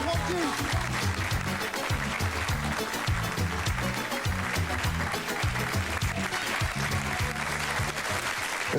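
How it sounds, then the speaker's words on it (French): A large crowd applauds steadily, dense clapping filling the space alongside a loud, rhythmic musical backing throughout. "Applaudissements pour Francky."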